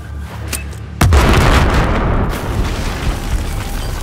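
A loud, close explosion booms suddenly in the Battlefield 4 campaign's Baku mission, with a deep low rumble and a debris-filled roar that trails off over several seconds.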